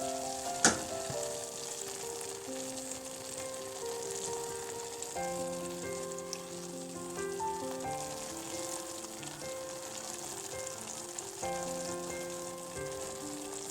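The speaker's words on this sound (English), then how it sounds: "See, the flame is actually off now, and it's just sizzling." Steady crackling sizzle of chicken gravy in a pan with the flame off, continuous throughout, with a faint tonal hum and one sharp clink near the start.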